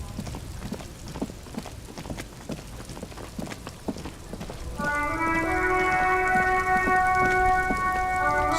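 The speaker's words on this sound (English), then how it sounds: "Stuck in the rain in a traffic jam, man." Steady rain falling in the video game Disco Elysium, a soft continuous patter with scattered drops, joined midway by sustained tonal music layered over the rain.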